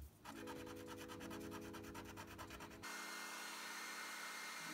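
A Morfone acrylic paint marker laying down base coats with steady, close, scratchy rubbing strokes in a quick repeating rhythm, followed by a continuous dry scraping drag with no talking.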